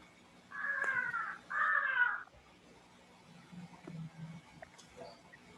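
Two loud crow caws sound close by in quick succession, followed by fainter low murmuring and scattered soft noises.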